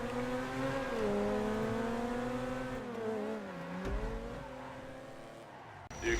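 Truffade Turismo R race car in a GTA video game, its engine howling steadily through gear shifts with rising and falling pitch, then dropping off near the end amid faint tire noise.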